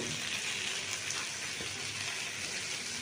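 Potatoes and fried cauliflower sizzling together in a frying pan for an aloo phulkopi chorchori, giving a steady crackling hiss at moderate volume with a few faint clinks and no talking.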